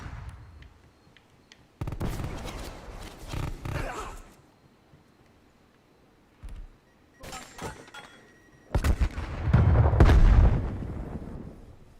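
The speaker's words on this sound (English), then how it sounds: "Throwing flashbang." Flashbang grenade thrown during a Call of Duty Black Ops Cold War match, heard as a series of loud sharp blasts and bursts of gunfire separated by quieter gaps, ending in a heavy rumbling explosion.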